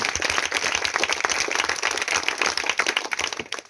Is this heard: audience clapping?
yes